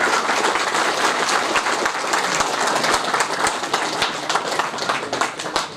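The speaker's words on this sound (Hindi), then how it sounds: "एक बार सब कोई खड़ा होकर इनका सम्मान में हमें ताली बजा दिए कम से कम" An audience applauds in honour of a legislator at a Khortha language and literature event in Jharkhand, with steady, dense clapping throughout and no speech.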